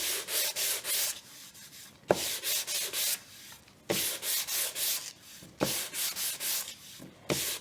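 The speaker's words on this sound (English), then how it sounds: "So the first thing I'm going to do is lightly sand." Close-up hand sanding on a wooden cutting board with 220-grit sandpaper makes a rhythmic, raspy back-and-forth scratch in quick strokes. Brief pauses separate the bursts, and no one talks.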